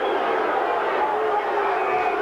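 Hawthorn crowd at a 1986 Australian football match against Footscray, a steady roaring murmur of spectators voicing displeasure at a player, sustained and broad throughout.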